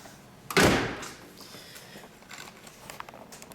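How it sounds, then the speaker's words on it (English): A single solid thunk as the door of a 1933 Packard Super Eight Roadster swings shut, close and loud, followed by faint rustling and handling noises. "All right, we're going to shut this door."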